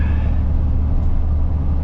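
Steady low engine rumble heard from inside the cab of a Freightliner truck, a continuous close drone with no speech over it.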